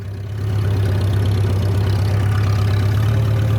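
A 1940-1947 Farmall BN tractor engine runs steadily at a low idle-like rumble while the tractor turns, a loud, close, continuous drone with a strong low hum and no talking.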